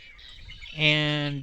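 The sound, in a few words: red-winged blackbirds calling while feeding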